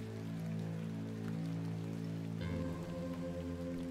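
Steady rain falls in The Excavation of Hob's Barrow, a soft continuous patter that runs the whole time beneath a low sustained musical drone, with no talking.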